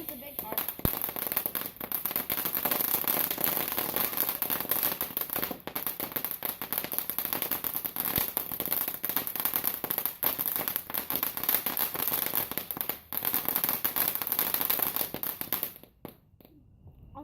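Fireworks and firecrackers going off in a dense, continuous crackling barrage with scattered louder pops for about sixteen seconds, then cutting out abruptly; a person talks over it.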